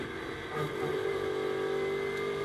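A GT race car engine accelerates through Hawthorns at Brands Hatch during GT World Challenge qualifying, a steady sustained drone with rising throttle that stays loud and continuous throughout.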